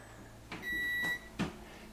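An appliance beeps when finished: a couple of short, bright electronic tones close by, with a light clatter in between, fairly quiet.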